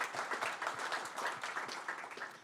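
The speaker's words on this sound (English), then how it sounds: "I want to give a round of applause to Richard" Crowd applause at a startup pitch night during an investment summit, steady dense clapping from many hands sustained throughout without speech.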